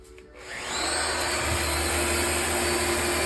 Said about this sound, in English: As you can see, the sander rotates quite nicely and evenly.